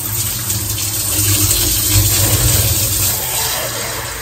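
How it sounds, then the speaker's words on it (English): Tap water gushing into a flow cup to test hot-water flow after a new boiler install, a steady, loud rushing pour with a low hollow rumble that swells slightly in the middle and holds throughout. "just run the water"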